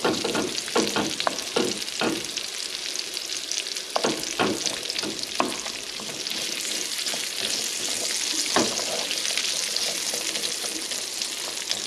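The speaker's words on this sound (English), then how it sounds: "I like crisping up these potatoes at kind of just a higher heat point" Potatoes crisping in butter over high heat in a pan, a steady dense sizzle with intermittent scraping stir clicks, close and continuous with no talking.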